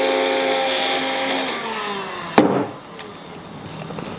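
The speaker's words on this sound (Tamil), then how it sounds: "இப்போ சிங்கிள் பிளேடு தான் அரைச்சிக்கிட்டு இருக்கு." A bullet mixer with a single blade grinds ragi and millet grain into flour with a loud, close, rough roar, then a clunk, after which the grinding turns quieter.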